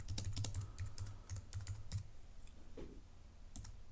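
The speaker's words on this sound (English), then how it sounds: "Type some text." Someone types text on a computer keyboard, a quick, close run of key clicks that thins out into a few scattered taps.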